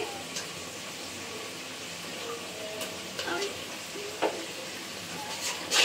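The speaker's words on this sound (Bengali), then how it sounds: "মশলাটা ভালো করে কষাই নিব।" Spice paste of cumin, salt and ginger-garlic paste frying and being stirred in a pan, a steady soft sizzle with occasional scraping clicks of the spoon, close and continuous.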